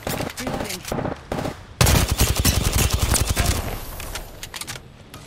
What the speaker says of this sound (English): Contact with hostile. Getting shot at.